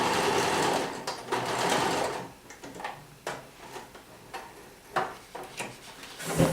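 A sewing machine stitches a jacket sleeve hem, running in a steady whirring burst at first and then in short, stop-start runs with small mechanical clicks between them, close and with no talking.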